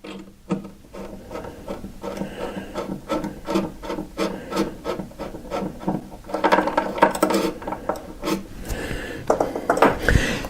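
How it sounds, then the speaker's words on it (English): A drill bores a hole upward through a wooden floor from below, a rough, grinding rasp in rapid repeated bursts with a ratcheting texture, moderately loud and close, growing busier toward the end. "I'm going to go through with my drill that I have on here, and we're going to drill a hole all the way up to the floor up above"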